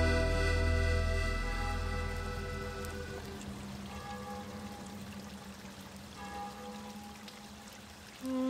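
Liquor being poured into glasses at an evening drinking session, a steady liquid pour that starts loud, then quietens, with background music tones running under it and no voices.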